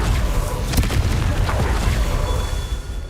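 A Confringo explosion spell in the video game Hogwarts Legacy goes off as a deep, rumbling boom that fills a few seconds with a dense, roaring burst, loud and close.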